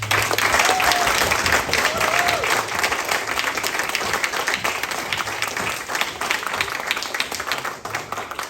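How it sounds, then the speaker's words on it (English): Sustained applause from a crowd at a football club presentation day, dense steady clapping filling the whole stretch, with faint voices underneath. "can we have a round of applause?"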